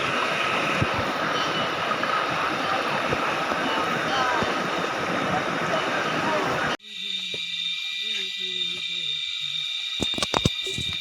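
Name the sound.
mountain stream and waterfall at Sungai Segitiga, Gunung Ledang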